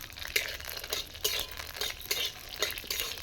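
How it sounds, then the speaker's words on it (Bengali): Peanuts fry in hot oil, with rhythmic bursts of sizzling and scraping stirring recurring every half second or so, close and fairly quiet. "তেলটা গরম হয়ে গেছে আমি বাদামগুলো ভেজে নিই"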